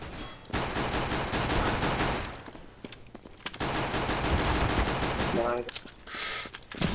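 Rapid bursts of automatic rifle fire and single gunshots crackle through a chaotic firefight in the video game CS:GO, loud and near with brief pauses between volleys.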